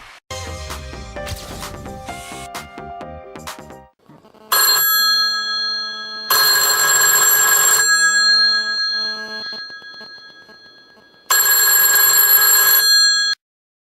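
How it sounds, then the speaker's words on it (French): A red telephone in The Sims 2 rings in loud electronic bursts, its tones repeating in separate blocks with short gaps between them, preceded by a jangling game melody. "le téléphone rouge ressonne"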